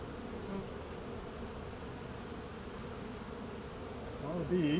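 Honey bees buzzing steadily around an open hive during a January inspection, a close continuous drone with a slight swell near the end and no speech.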